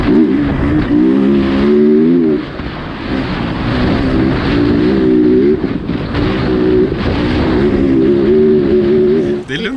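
A rally car engine revs steadily in a repeating rise-and-fall pattern throughout a Dakar training run, holding a loud, buzzy tone with a short dip partway through and no talk over it.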